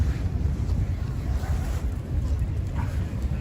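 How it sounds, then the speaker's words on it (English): Strong night wind buffets the open air of Midtown Manhattan, New York City, with a continuous, loud rushing roar that gusts and swells throughout. "It's extremely windy tonight"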